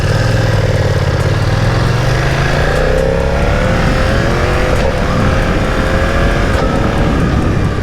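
A 2020 BMW F900R motorcycle pulls hard through first and second gear, its loud engine note rising and shifting in pitch with each gear change, close and continuous.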